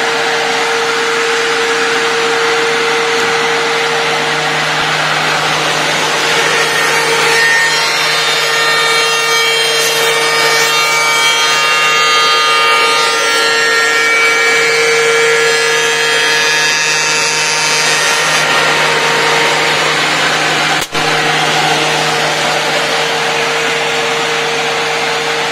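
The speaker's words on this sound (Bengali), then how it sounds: "রাশেদ হেল্প করছে মেশিন চালানোর জন্য।" NC tenoner and oscillating mortiser machining wood: a steady loud mechanical whine with rising cutting noise mid-clip, continuous throughout with no talk.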